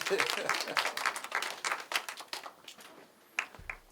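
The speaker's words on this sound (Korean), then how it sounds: "우리 선생님께 박수 한번 보내주세요" An audience at a high school debate event claps for a teacher, a close, scattered patter of hands that thins out into a few isolated claps, with speech mixed in.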